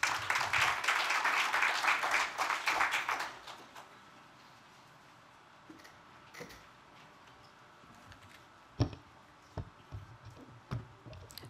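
A conference audience applauds an undersecretary at a public-private business dialogue; loud, dense clapping for about three seconds, then it fades into a quiet room with scattered faint knocks and rustles.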